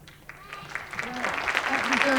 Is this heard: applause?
yes